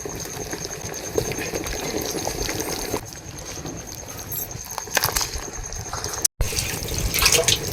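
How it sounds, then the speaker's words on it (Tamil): A pot of dried fish curry with chili comes to a boil while cooking outdoors in a forest at night, giving a steady, close bubbling and hissing broken by a few clinks. "அதான் கொதி வந்துருச்சு."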